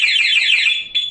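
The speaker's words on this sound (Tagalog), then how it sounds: "Ayan, nag-alarm na rin." The anti-theft alarm on a Yamaha Fazzio scooter sounds nearby as a loud, shrill electronic warble that cycles rapidly, breaks off briefly, then starts again.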